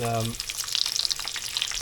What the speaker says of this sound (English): when you're frying stuff like this in a frying pan